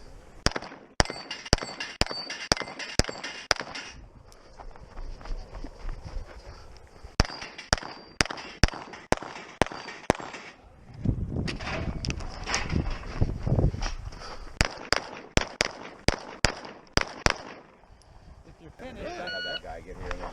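Pistol gunshots fired in low light on a shooting range with a slide-mounted red dot sight, sharp loud reports in rapid strings and separated bursts, with brief pauses and a few voices between volleys.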